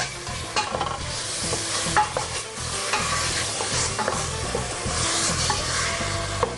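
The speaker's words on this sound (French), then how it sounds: "Et on vient remuer le tout." A spoon stirs white sauce in a pan with a continuous close scraping swirl over a soft bubbling sizzle, the strokes coming in a loose, uneven rhythm.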